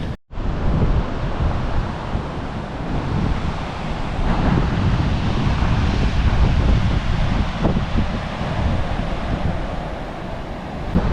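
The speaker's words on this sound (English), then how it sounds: "it is still quite windy" Steady wind gusting along the Fraser Island (K'gari) coast near a campsite, a loud continuous roar with low rumble and likely surf mixed in, holding constant for the whole stretch with no voices.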